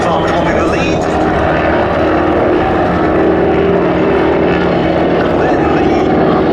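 Propeller trainer aircraft flying at the Duxford Battle of Britain airshow, a loud, steady engine drone with a rough propeller buzz that holds throughout, with faint crowd voices underneath.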